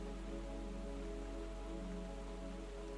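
Steady rain falls at night outside a pottery studio, a dense, constant hiss and patter with a low continuous rumble underneath and no pauses.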